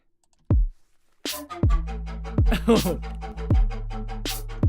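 Synth horn stabs over a punchy electronic drum beat, with deep kick hits and sharp clicks, starting after a brief quiet moment.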